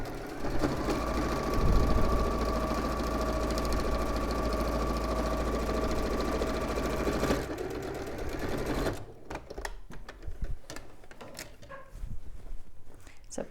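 A sewing machine stitches a tapestry tote bag in a fast, steady whir that runs loud for about nine seconds and then stops, leaving quiet handling sounds.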